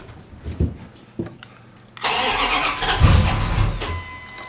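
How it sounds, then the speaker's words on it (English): A 1998 Ram truck, its cab removed, cranks briefly and fires up into a steady, loud close-up idle after a few soft clicks, with no talking. "I just want to make sure that this truck will still start and run."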